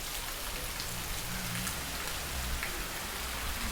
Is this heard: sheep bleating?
no